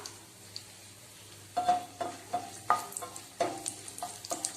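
Cumin seeds and cashew nuts fry in a pan, a soft sizzle at first, then a run of rhythmic metal spatula clinks and scrapes against the pan, close and without speech.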